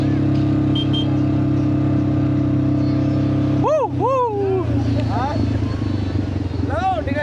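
ATV engine hums steadily during a beach ride at Dublagadi, Odisha, then eases off as the ride ends, with nearby voices talking over the motor.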